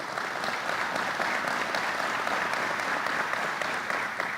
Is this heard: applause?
yes